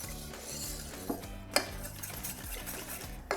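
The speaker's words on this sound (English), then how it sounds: "we're gonna whisk all this together" Whisk clinks steadily against a bowl as egg yolks are stirred together for a pie filling, soft close scraping with a few sharper taps, no speech.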